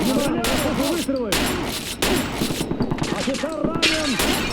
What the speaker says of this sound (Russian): Внимание, слышу выстрелы!